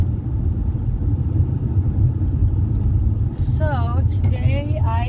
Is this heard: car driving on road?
yes